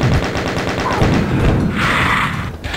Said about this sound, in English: Time for do the chain gun dance with the pain element.